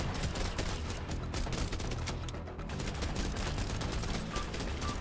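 Rapid, continuous gunfire in the zombie bullet-heaven game Biters & Bullets, a dense fusillade of quick overlapping shots rattling steadily throughout with no voices.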